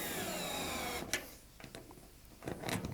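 A cordless electric screwdriver runs a steady whirring drone while tightening bolts on the wall of an above-ground Waterair pool, then stops and leaves brief clicks and short bursts near by.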